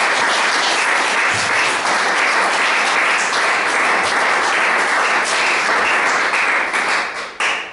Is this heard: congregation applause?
yes